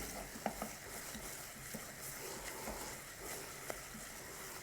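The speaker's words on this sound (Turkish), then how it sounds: "Devamlı karıştırıyorum ben. Çünkü biber salçası domates salçası özleşsin diye." Pepper paste and tomato paste are stirred in a pan, giving a quiet, close sizzle broken by a few light scrapes and taps of the spoon, with no talking.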